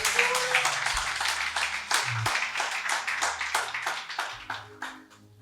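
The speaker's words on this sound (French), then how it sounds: "Acclame bien, acclame bien." A church congregation claps together in a loud, steady run of sharp hand claps that keeps going for several seconds before tapering off near the end.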